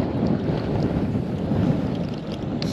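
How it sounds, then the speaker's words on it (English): Strong wind gusts roar steadily across the microphone on a fishing boat out on Baffin Bay, a continuous low rumbling buffet with no talk. "The wind really picked up."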